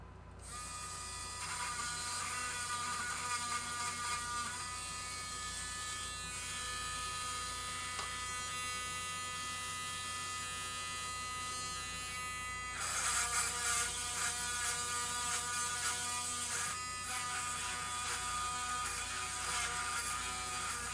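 A Dremel rotary tool fitted with a 443 bit whirs steadily at close range while working on a 1974 Gottlieb pinball machine head, a high buzzing drone whose pitch jumps and grows louder partway through before settling again.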